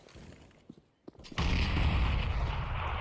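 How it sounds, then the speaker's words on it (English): A single AWP sniper rifle shot on the Inferno map during a CS:GO pro match, a sharp crack that gives way to a loud, sustained wash of game noise, with scattered softer clicks before it. "I think that was the AWP shot from Major that came across."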